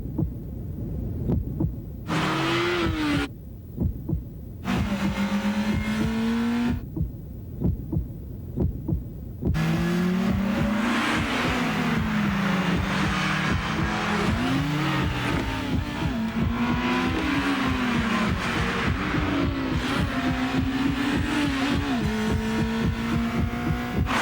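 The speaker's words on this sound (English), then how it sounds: "The all-new 200 horsepower Acura RSX." An Acura RSX's 200-horsepower engine revs in a TV commercial, its pitch climbing and dropping in repeated surges that are loud and sustained, with short breaks early on before a long continuous stretch.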